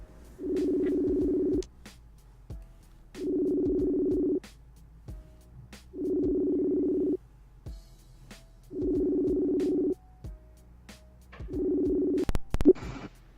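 Outgoing phone call ringback tone, five evenly spaced steady buzzing rings separated by short silences, close and clear, with a brief click at the end.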